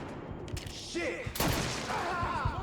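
Gunfire erupts in the Mafia III video game, with a short burst of shots mixed with game sounds and voices talking.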